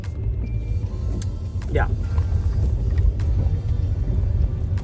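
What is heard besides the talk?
car driving, engine and road rumble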